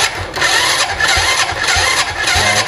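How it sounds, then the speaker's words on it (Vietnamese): A motorbike engine starts and runs close by, a loud rhythmic chugging with regular pulses over a steady mechanical hum, alone without talk. "em nổ máy giúp anh"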